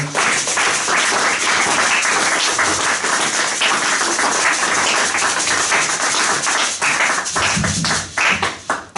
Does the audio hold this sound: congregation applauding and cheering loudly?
yes